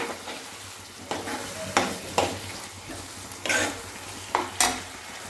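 Steamed peas being stirred into green pav bhaji in a pan, a low sizzle beneath a few distinct scraping and clanking strokes of the spatula against the pan.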